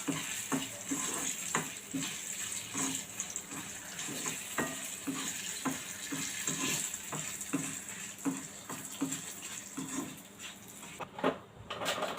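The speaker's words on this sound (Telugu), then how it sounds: "కొన్ని ఆవాలు ఎండుమిర్చి కరివేపాకు వెల్లుల్లి రెబ్బలు వేసి వెల్లుల్లిని కొంచెం దంచి వేసుకోవాలి వేసి చక్కగా తాలింపు వేసుకోవాలి" Mustard seeds, dried red chilies, curry leaves and crushed garlic cloves tempering in hot oil for a raw mango pickle, giving a steady sizzle with repeated light taps and pops of stirring throughout.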